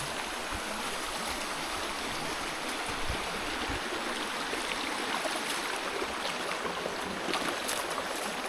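A stream in rural Laos flows steadily, a constant broadband rush of water with faint trickles, even in level throughout and no voices.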